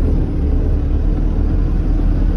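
A camper van's engine pulls steadily uphill, a loud, constant low rumble with road noise and no gaps, close and continuous throughout.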